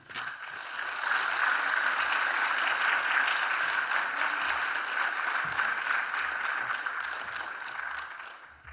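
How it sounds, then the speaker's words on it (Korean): Church congregation applauding to welcome a pastor, a sustained, even wash of many hands clapping that swells in, holds steady for several seconds, then tapers off. "이재수 목사님 나오실 때 큰 박수로 환영해 주시기 바랍니다."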